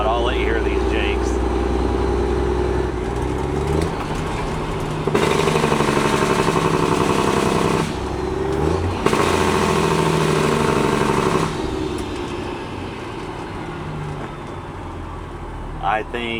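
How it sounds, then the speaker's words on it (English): A loud truck engine rumbles, then its Jake brake erupts twice into harsh, rapid staccato engine braking, with a pause between bursts before settling back. "I smile every time I hear those Jake brakes"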